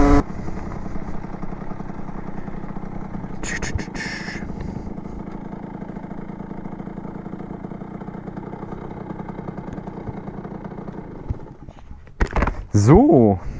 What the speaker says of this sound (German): Wenn man so einen kleinen Einzylinder-Zweitakter fährt.